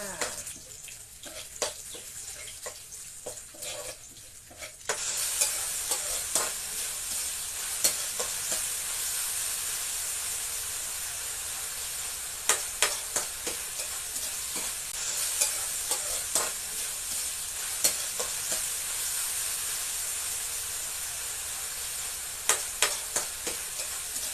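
Rice with tomatoes and a little soy sauce is stir-fried in a pan, a constant hiss of sizzling broken by repeated sharp scrapes and knocks of a spatula. Someone talks over parts of it.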